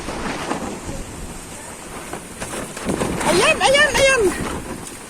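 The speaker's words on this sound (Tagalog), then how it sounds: "ang lakas ng hangin" Strong wind gusting through a storm while a tarp has torn loose, broad roaring noise with rushing rain, loud and close, with people talking over it.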